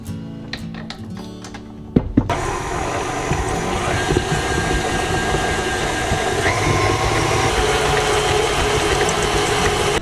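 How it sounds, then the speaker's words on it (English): KitchenAid stand mixer with whisk attachment cutting butter and flour into a crumble topping: a few clicks and knocks, then a sharp start into a loud, steady motor whir with rattling that runs on to the end. "I'm gonna use the whisk attachment for my KitchenAid mixer"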